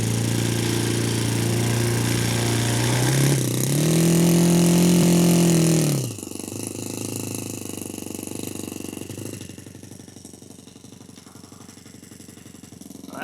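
A rebuilt engine after a dropped-valve repair runs on a test stand, a steady near idle rising into a loud throttle blip whose pitch climbs and holds for a couple of seconds, then drops back to a quieter idle.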